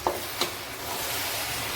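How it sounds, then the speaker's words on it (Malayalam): Cooked jackfruit pieces for halwa being stirred in a pan after the lid comes off, a couple of soft scraping knocks followed by a low steady hiss, close and without speech. "അടപ്പൊന്ന് മാറ്റി കൊടുത്ത് നമുക്ക് നന്നായിട്ടൊന്ന് ഇളക്കി കൊടുക്കാം."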